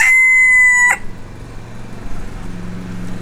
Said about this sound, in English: So the dun mottled rooster